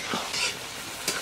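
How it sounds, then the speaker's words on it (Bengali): Potatoes being sautéed in a pan for Bengali aloor dum, a close, steady sizzle with scraping stir strokes in short bursts, no voices. "আলু দিয়ে 10 মিনিটের মতো কষতে নেব।"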